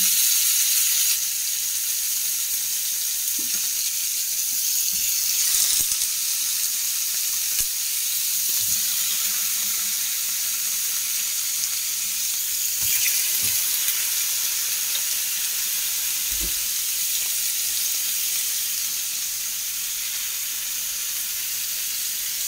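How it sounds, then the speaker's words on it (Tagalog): Sliced chicken frying in a pan alongside hotdogs, giving a steady, bright sizzling hiss throughout with a few faint clinks and stirring knocks, no voices. "Butang pa natin na sliced chicken."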